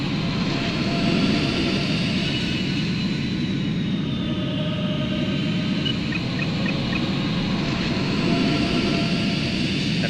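Fighter jet in the flight combat game Ace Combat 3, a steady loud roaring engine drone with broadband rumble and a faint high whine, sustained throughout without talk.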